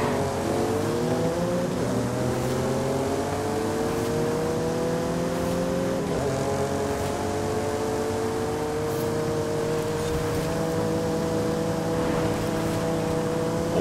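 A Porsche is driven in the video game Forza Horizon 5, its engine droning steadily loud and close, pitch climbing gradually through the gears with no pauses.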